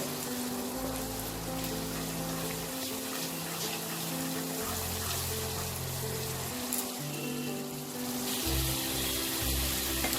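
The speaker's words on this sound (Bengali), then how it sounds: "দিয়ে মশলাটাকে লো ফ্লেমেই ভালো করে কষিয়ে নেব।" Spice paste for Kolkata-style hilsa biryani sizzles steadily on a low flame, a continuous soft crackle and hiss under a low background hum, with no talking.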